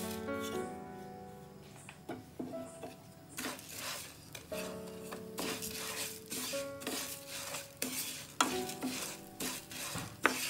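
Flattened rice roasting dry in a pan, stirred with a spatula: repeated scraping and clinking strokes in an irregular rhythm over a light sizzle, fairly quiet and close.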